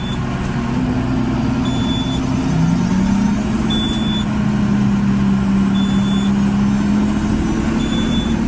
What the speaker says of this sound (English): get our flail on, reduce our revs a little bit, get the flail on now